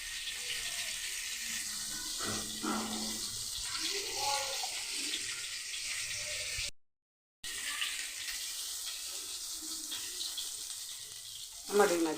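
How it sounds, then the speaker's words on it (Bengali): Fish deep-frying in a pan of oil gives a faint, steady sizzle and crackle, with brief soft talk and kitchen clatter mixed in. "মাছগুলো খুব ভালো করে ভেজে নেব, একদম ডুবো তেলে ভাজতে হবে।"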